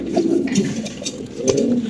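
Lahori pigeons cooing at a fancy pigeon farm, a soft throaty burble repeating steadily at close range with faint shuffling behind it.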